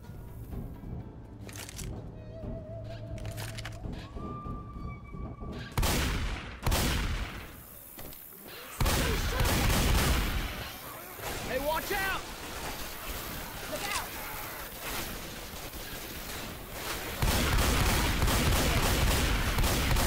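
Gunfire rattles through a Left 4 Dead 2 match on the Dark Carnival campaign, with bursts of shots and sustained volleys over loud game noise while several players talk throughout.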